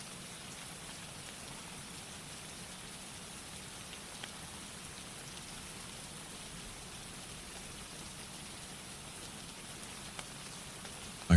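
Steady rain falls on a rooftop at night, a dense, even hiss of countless drops that holds constant and close throughout with no voices, ending in a brief louder knock.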